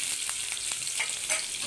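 Dried red chilies crackle in hot oil for a drumstick-leaf stir-fry, a brief dense sizzle with small pops, close and steady.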